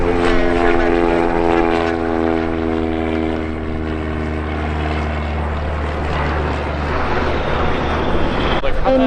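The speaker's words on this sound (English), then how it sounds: "Aircraft departing runway 36 left, it'll be in a right turn." Propeller airplane departing a runway at EAA AirVenture Oshkosh, a steady loud droning engine with strong harmonic hum, heard alongside radio-style talk throughout.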